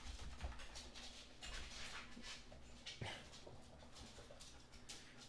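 Puppies whimper and yip softly while playing close by, short high whines scattered over a low steady hum, with a brief thump near the middle.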